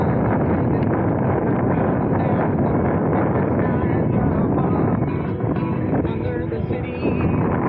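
Strong wind buffets the microphone aboard a Hobie Adventure kayak under sail, a constant loud roaring rush with water sounds beneath, while voices speak faintly under the noise.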